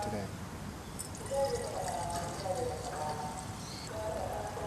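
Liquid fuel is poured into a SOTO Muka stove fuel bottle through a wide opening, producing a steady, close trickle and gurgle with a few brief knocks.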